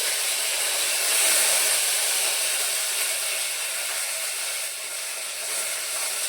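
Spices splutter in hot oil as curry leaves go in for a bitter gourd palya, giving a loud, steady sizzling hiss that swells slightly near the start and then holds.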